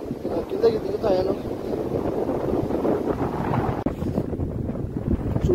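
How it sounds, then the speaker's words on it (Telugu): Strong early-morning wind sweeps across the hills, buffeting the microphone in a loud continuous roar with gusty swells and a brief dip near the end. "గాలి చాలా ఫాస్ట్గా వస్తూ ఉన్నది"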